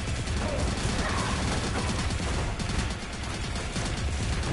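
Incoming gunfire in the PSVR bullet-hell shooter Evasion, a dense, continuous barrage of rapid shots and impacts, moderately loud and unbroken throughout.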